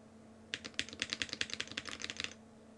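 Brisk burst of keystrokes on a Primus 75 mechanical keyboard build fitted with GMK keycaps, about two seconds of rapid, even clacking up close, with no talking.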